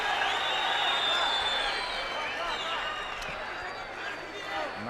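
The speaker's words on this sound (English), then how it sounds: "And the crowd respond to that." A fight crowd at a Felipe Froes vs Salman Zhamaldaev bout gives a steady roar and cheers that swell early and then ease, heard beneath a commentator's voice.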